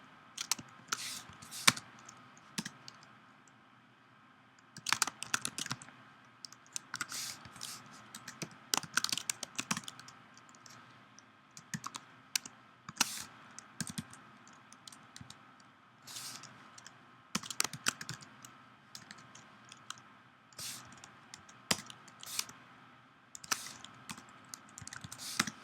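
Someone types on a computer keyboard in irregular bursts of close, crisp key clicks with brief pauses between runs, and no talking.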